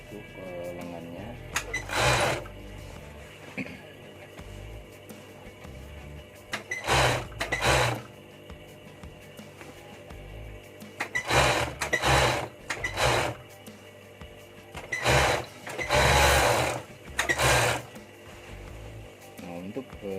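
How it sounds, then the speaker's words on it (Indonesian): An overlock sewing machine serges the sleeve seam of a shirt in repeated short bursts with quiet gaps between, close and fairly loud, while a person talks softly in the pauses. "saya obras dulu, setelah itu baru kita jahit"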